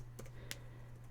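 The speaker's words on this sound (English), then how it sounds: "there's so much clicking" A computer mouse gives a few quick, faint clicks, two sharper ones standing out, over a steady low electrical hum, with no speech.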